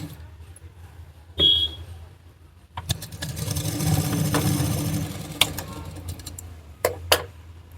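A domestic sewing machine stitches palazzo pants in one steady, moderately loud run of rapid mechanical whirring, with a few sharp clicks and handling knocks before and after.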